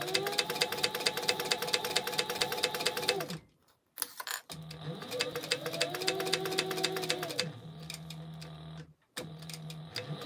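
Sewing machine top stitching a pouch lining down to the exterior at one-eighth inch, running in rapid, even needle bursts with brief pauses between runs and pitch shifts as the speed changes.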